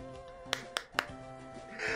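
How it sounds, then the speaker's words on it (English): Three sharp hand claps land in quick succession, close to the microphone, over a low background of music or room sound, without speech. "I'm clapping."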